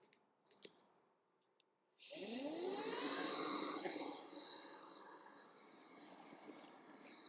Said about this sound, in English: Turn our pump on.